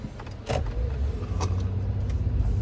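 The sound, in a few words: road traffic heard from inside a car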